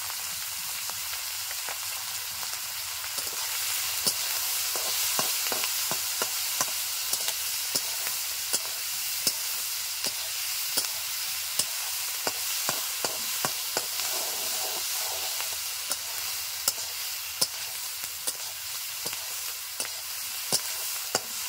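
Tengra fish seasoned with salt and turmeric sizzles steadily in a pan, a continuous broad hiss of frying with scattered small pops and crackles throughout, close and fairly loud, no talking.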